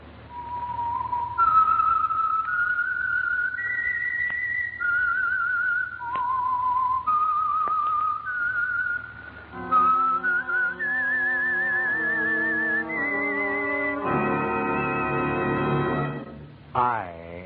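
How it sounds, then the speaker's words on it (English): A lone whistler carries the signal tune for the radio program The Whistler, a slow eerie melody of held notes gliding up and down, then joined by an orchestral swell near the end. "That whistle is your signal for the Signal Oil Program, The Whistler."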